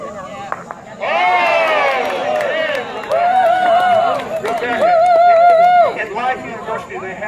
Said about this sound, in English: Clapping is appropriate, people.